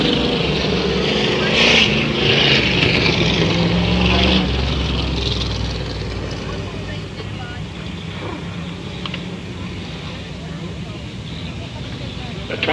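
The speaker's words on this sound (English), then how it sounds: "That 29 car sounds pretty good too." Number 29 race car engine roaring on a track, a loud steady drone with passing swells and crowd or commentator voices mixed in, fading slightly toward the end.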